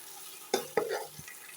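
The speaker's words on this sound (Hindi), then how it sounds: "तो अब हम टमाटर ऐड करेंगे, मिक्स करेंगे। 5 मिनट तक हम टमाटरों को भूनेंगे।" Tomatoes sizzle in a pan while a spoon stirs them for biryani, with a few sharp scraping clacks over a faint frying hiss, close and brief.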